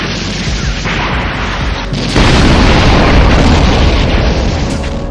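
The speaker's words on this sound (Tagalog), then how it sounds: "Bagay na sinundan naman ng magkakasunod na pagsabog." A tower blows up in a chain of explosions, a loud, continuous roaring rumble that swells sharply after about two seconds and holds heavy and dense to the end.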